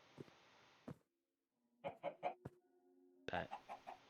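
Chickens clucking in the Minecraft Sky Factory 3 video game, several short bursts in quick succession, with a gap of near silence between them.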